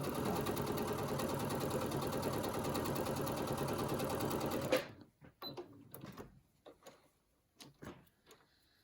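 A sewing machine stitches quilt pieces in a steady, fast continuous whir for nearly five seconds, then stops, followed by faint handling clicks and light movement.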